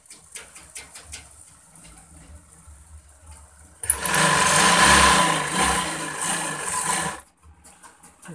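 A sewing machine stitches palazzo pants with a loud, fast whirring burst of about three seconds. Quiet, sparse clicks and handling sounds come before and after it.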